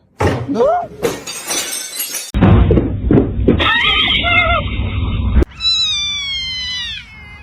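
A pet cat meows with rising, wavering cries amid a jumble of other sounds, including a crash-like burst and whinny-like calls, in a fast-cut sequence of loud, close clips.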